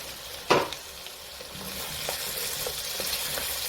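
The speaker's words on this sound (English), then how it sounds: "Now to this I'm going to add the tomatoes and just stir them up." Tomatoes going into a hot frying pan with softened vegetables: a sharp clatter as they drop, then a steady close sizzle with light, irregular stirring scrapes and no voices.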